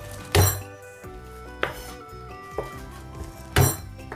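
Two washed garlic cloves are crushed with a knife on a board, giving three or four sharp, irregularly spaced knocks and clinks, the first and last the loudest, with quiet between.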